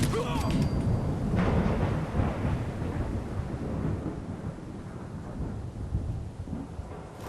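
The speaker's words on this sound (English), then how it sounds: "That thunder, though." In Fallout 4, a sharp thunderclap breaks out and then trails into a long rolling rumble that slowly fades, heavy and close, over a constant stormy wash.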